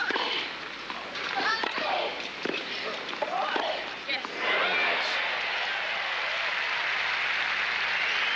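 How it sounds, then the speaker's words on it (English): A tennis crowd at a women's final in Montreal cheering and applauding, a broad wash of clapping and roaring that swells midway and holds, with a commentator talking over it. "the crowd going absolutely berserk"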